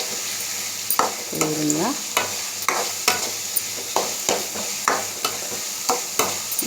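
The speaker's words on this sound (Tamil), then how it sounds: "இதை அப்படியே நல்லா வதக்கி விட்டுக்கிட்டே நல்லா வதங்கட்டும்." Onion, tomato and green chilli sauté in a pan, a soft sizzle under repeated sharp spoon scrapes and stirs about once a second, with a brief spoken word over the cooking.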